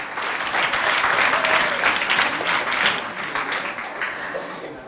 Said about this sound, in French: On applaudit très très fort pour ces deux écoles.